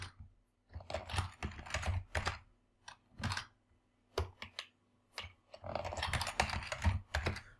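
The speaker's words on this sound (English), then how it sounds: "So we'll type the password here." A password is typed on a computer keyboard in close, crisp clicking bursts. The keystroke runs come in uneven groups separated by short pauses, with no talking.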